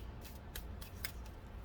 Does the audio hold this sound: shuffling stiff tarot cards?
yes